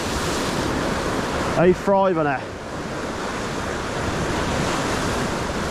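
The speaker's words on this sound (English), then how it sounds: "Nice surge of water, moving water." Moving water surges steadily along a bass fishing shore at dawn, a continuous broadband wash with wind noise on the microphone, and someone speaks briefly over it.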